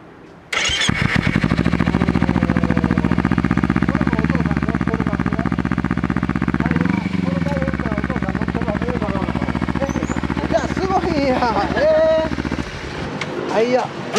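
A Kawasaki Ninja 250 motorcycle with an injection engine and a custom exhaust starts up close by and runs at a loud, steady idle with a brief rev midway, while people talk over it.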